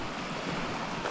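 Waves wash up on a lake shore at a backcountry campsite, a steady broadband surf wash with a wind-like hiss, continuous and fairly close for about a second with no voices.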